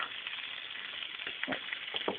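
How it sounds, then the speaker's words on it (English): A tempering for lemon rasam sizzles and crackles softly in hot oil in a pan, a steady faint hiss with a few sharper spits and pops. "You can hear it sizzling all the way."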